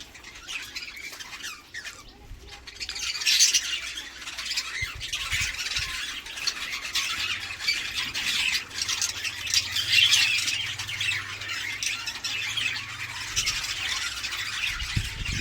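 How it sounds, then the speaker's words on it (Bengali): Young budgerigars in a straw-lined cage, a continuous bright chatter of squawks and chirps with a few sharper squeals, steady and moderately close, over low background rumble. "দেখুন বাচ্চা বাচ্চা পাখি কী করছে দেখতে পাচ্ছেন"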